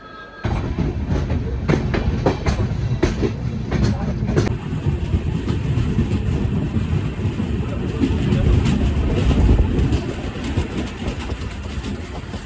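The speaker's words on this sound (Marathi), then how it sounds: "ट्रेन थांबेल आणि त्याच्यानंतर निघेल" A train rolls along the tracks with a loud, continuous rumble and rhythmic clatter, close by, with some voices faintly in the background.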